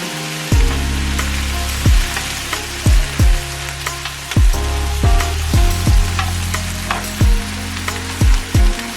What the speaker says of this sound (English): it doesn't take shrimp long to cook at all